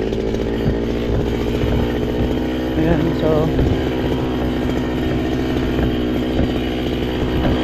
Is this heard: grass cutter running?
yes